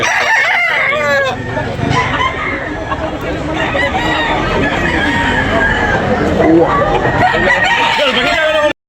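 Several roosters crow loudly and repeatedly, with clucking and a murmur of people talking in the background, at a rooster market in Tabunok, Cebu.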